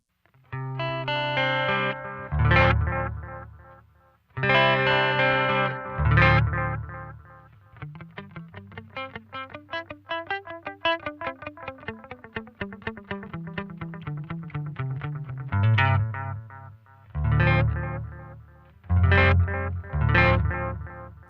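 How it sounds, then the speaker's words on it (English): Electric guitar chords and a picked melodic line ring out through an MXR Carbon Copy analog delay on a long delay setting, soft repeating echoes trailing behind each note, warm and clean. "why don't we start with the carbon copy here on a longer delay setting"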